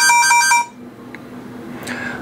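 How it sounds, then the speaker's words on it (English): Iridium satellite phone handset sounding a loud new-voicemail alert: a short burst of about four rapid, bright electronic beeps lasting under a second, followed by near-quiet with a faint tone near the end. "my Iridium phone has just let me know with a big loud beep that I have a new voice message"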